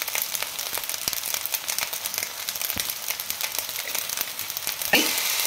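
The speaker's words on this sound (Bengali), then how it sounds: "হালকা হাতে নেড়ে নিচ্ছি ফ্রাইড রাইসটা" Vegetarian fried rice is stirred gently in a hot pan. A steady frying hiss is broken by soft scraping clicks from the spatula, then a louder clatter near the end.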